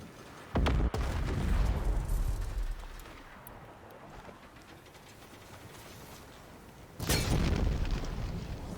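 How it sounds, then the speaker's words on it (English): Explosions in the video game Horizon Zero Dawn Remastered, a sudden loud booming blast followed by a long rumbling roar that fades, then a second heavy blast near the end, deep and close with no talking. "Can we get the explosion from the back?"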